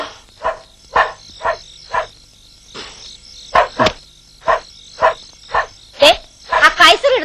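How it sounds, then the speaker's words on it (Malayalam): A dog named Kaiser barks repeatedly from somewhere near a house, about a dozen short, sharp barks at a steady pace, fairly loud and close, with a couple of rougher, overlapping barks near the end. "ആ കൈസർ ഇടുന്ന് കുരയ്ക്കുന്നുണ്ട്."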